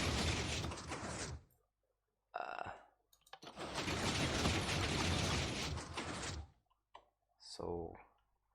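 Glass piston door opening in Minecraft, built in a compact footprint, gives bursts of mechanical clicking and sliding piston noise, with a short pause between movements and a brief final clunk.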